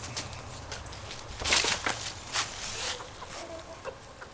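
Backyard chickens in a coop, giving faint, scattered clucks and short calls against low background hum, with a few louder bursts near the middle.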